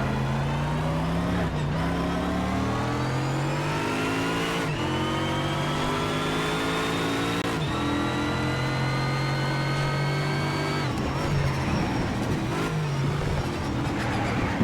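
A car in Need for Speed: SHIFT on an exotic mixed track powers out of corners, its engine revving up repeatedly in rising pitch sweeps, with gear-shift drops between them. The sound is loud and close, with no talk.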